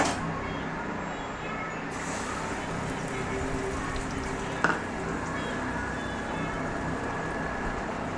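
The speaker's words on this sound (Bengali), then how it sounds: "এবার ডিমটা ভেজে নেব।" An egg fries in hot oil in a kadai, giving a steady, close crackling sizzle throughout, broken by one brief clink partway through.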